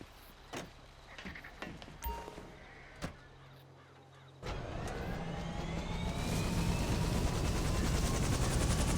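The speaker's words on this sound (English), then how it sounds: "I guess this is our chopper." A helicopter in the video game GTA 5 starts up after a few scattered clicks and knocks, then becomes a loud, steady, rising rotor and engine roar that fills the rest of the stretch.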